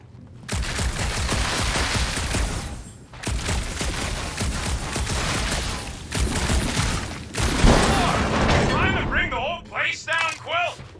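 Gunshots in the Guardians of the Galaxy video game: sustained bursts of rapid gunfire with brief pauses between them, and character voices chattering over the shooting near the end.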